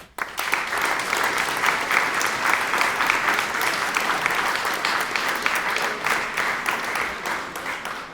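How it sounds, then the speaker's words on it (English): Sustained audience applause fills a prize concert hall, a dense steady wash of many hands clapping at even loudness throughout, with no voices standing out. "give him a big applause for wanting to help young talents"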